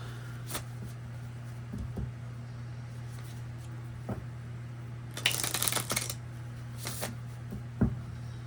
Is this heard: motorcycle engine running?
no